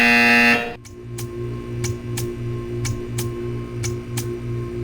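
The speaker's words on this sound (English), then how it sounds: "You will hear a buzzer." A loud tone cuts off, then a repeating buzzer in the Portal 2 video game pulses steadily about every half second over a low hum, alone with no voices.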